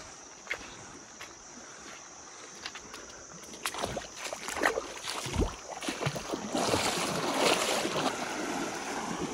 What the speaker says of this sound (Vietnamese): Con suối này lội cũng dễ dàng thôi.